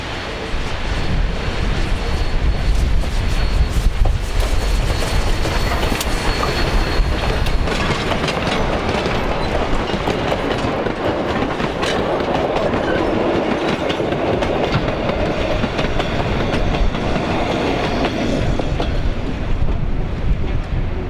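A Durango and Silverton narrow-gauge steam train rumbles and clatters past continuously beneath Cataract Falls, its rolling wheels and steady roar mixed with broad, echoing noise of rushing water.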